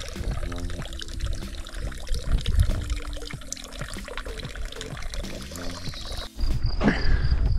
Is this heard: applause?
no